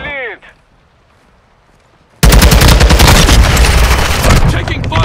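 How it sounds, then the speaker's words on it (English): Rapid automatic gunfire in Call of Duty Modern Warfare 2 on PS5 erupts loud and dense after a near-silent opening with a brief chirp, continuing as a sustained volley of close shots. "I'm taking fire!"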